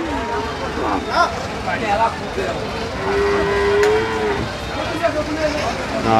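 Cows moo loudly and repeatedly amid a busy crowd of murmuring voices and background traffic at an outdoor cattle market in Dhelapir.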